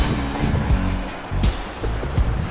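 Ocean surf rolls in along the coast of St. Thomas parish, Jamaica, a steady loud wash with repeated swelling wave crashes and no talk.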